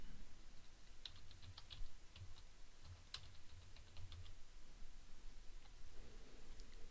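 Soft, quiet typing on a computer keyboard, a run of light irregular key clicks at close range with no talking.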